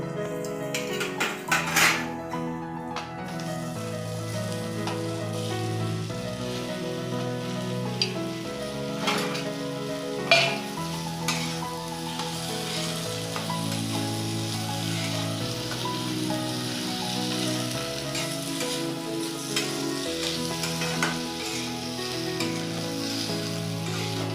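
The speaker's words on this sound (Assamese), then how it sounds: "এতিয়া মই আলুখিনি দি দিম।" Potatoes for a black pepper potato curry frying in a hot pan, giving a steady, close sizzle throughout with occasional sharp clinks of a utensil against the pan.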